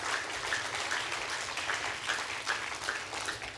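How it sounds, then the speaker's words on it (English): A loud, steady round of applause from the audience at an inaugural ceremony of a national science camp fills the space evenly and continuously. "a loud round of applause"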